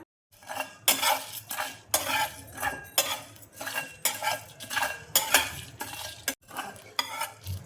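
Dried red chilies, whole coriander, cumin and fennel dry-roasting in a frying pan, stirred with repeated rhythmic metal scrapes and rattles, close and fairly loud, no talking.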